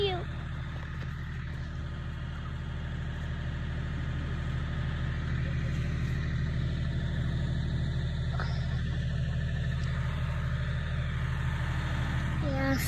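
A Kioti tractor engine idles steadily near a tilt trailer during unloading, a constant mid-pitched diesel drone with faint background sounds on top.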